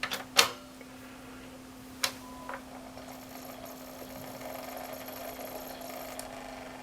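A PlayStation 1 disc drive spins up, with a few sharp mechanical clicks and a steady hum at first, then a soft whirring that builds and holds quietly for several seconds.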